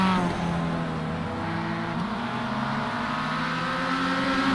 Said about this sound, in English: You can hear the revs come up big time.